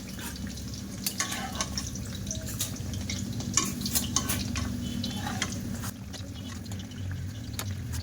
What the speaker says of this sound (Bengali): উনানের জালটা একদম লো করে দিয়ে নিমকিগুলো ভাজা করে নেব